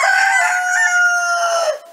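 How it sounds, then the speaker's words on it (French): A rooster in Montcuq, France crows once, loud and close, a long drawn-out call with clear tones that cuts off abruptly at the end. "vous entendez le coq qui chante bien, et il y a le coq enroué"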